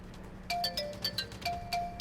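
A bright electronic ringtone chimes in a repeating pattern of short tones, moderately loud and steady, with no talking.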